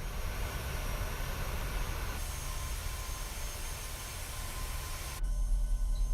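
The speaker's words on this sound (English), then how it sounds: "That sounds like a rather high engine speed." A simulated airliner jet engine in a PMDG aircraft in Microsoft Flight Simulator runs at high speed, a steady loud broadband roar and whine that changes tone abruptly near the end.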